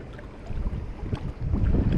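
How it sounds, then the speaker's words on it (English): Wind gusts at a lakeside fishing spot buffet the microphone in low, uneven rumbling bursts, strengthening toward the end, with no voices. "It's pretty windy."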